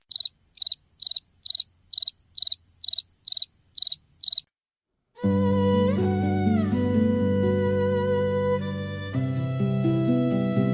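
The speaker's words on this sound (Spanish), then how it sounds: "Se escuchan grillos y el rumor lejano del Tíber." Nine evenly spaced cricket chirps ring out alone, then stop, followed by sustained low musical tones.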